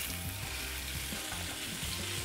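Oil heating in a non-stick frying pan for halibut: a constant, dense crackling sizzle, close and steady throughout, with no talking.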